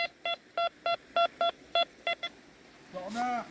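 A metal detector emits a series of about ten short, evenly spaced electronic beeps, clear and close, followed by a brief warbling tone.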